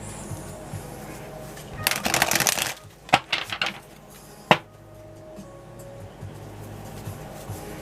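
Tarot cards are shuffled close up in short bursts: a dense riffle of about a second, then a few quick slaps and a single sharp tap, followed by quiet room tone.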